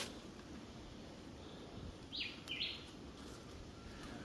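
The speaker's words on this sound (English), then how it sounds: "Birds are chirp." Birds in hilly country near a river give a couple of brief, high chirps, faint and distant over a soft outdoor hiss.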